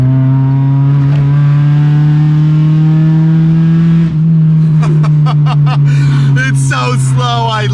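A Honda Civic hatchback engine hums steadily, then revs during a downshift. The loud drone is close, with sharp rising rev bursts near the end.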